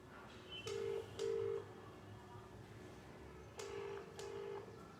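Telephone keypad tones sound while callers are added to a conference line: four short beeps in two pairs, fairly faint over a steady background hiss, with no talking.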